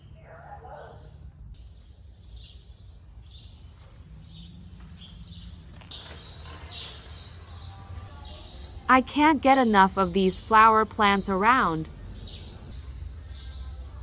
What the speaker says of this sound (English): The chirping of birds are real sounds of the birds.